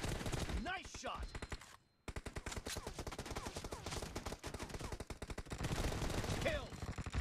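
Rapid gunfire from a team-based shooting video game, dense bursts of automatic shots close and loud, broken by one brief pause, with game announcer voices calling out over the shooting.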